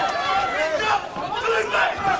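A kickboxing crowd roaring and shouting from the stands during a fight, a loud, continuous wash of cheering and yelling voices with some shouts rising above it.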